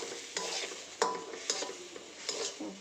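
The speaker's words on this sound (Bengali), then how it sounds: "এখন দুধ দিয়ে ভালোভাবে কষিয়ে নিব আমরা" A dish with milk being stirred and fried in a pan, with rhythmic spoon scrapes and clinks every half second or so over a low sizzle, close up and with no talking.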